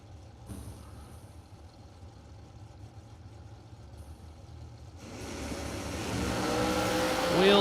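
A drag racing dragster engine idles low and rough at a drag strip, then builds into a rising, roaring acceleration that swells louder toward the end as the car launches down the strip.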